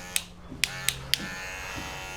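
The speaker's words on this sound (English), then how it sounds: "we're going to switch back to the cordless magic clip now" A Wahl cordless Magic Clip hair clipper hums steadily at close range in a barbershop, a constant buzz with a few sharp clicks near the start, no talking.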